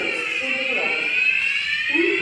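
A fire alarm sounds during a general test of fire protection equipment in a factory production area, giving a steady, sustained electronic tone that holds for the whole stretch over faint background noise.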